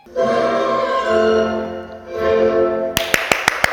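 Applause for a beginner's ballet performance, a short run of distinct sharp claps after a sustained musical tone.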